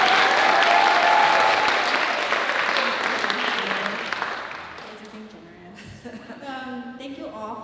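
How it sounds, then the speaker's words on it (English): A high school drama audience gives a loud round of applause for the play's director, dense clapping that gradually fades out before voices and a few scattered claps follow near the end. "So could you guys give her a round of applause?"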